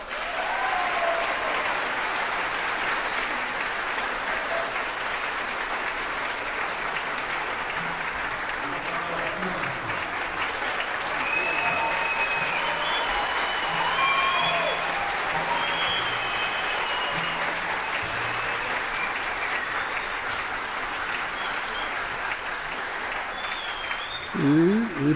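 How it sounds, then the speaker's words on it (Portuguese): Sustained audience applause at a music competition round with an orchestra in the hall, steady and even for the whole stretch, with faint tonal sounds and murmurs beneath it. "Antes de tudo, uma salva de palmas para você, Júlio Medalha"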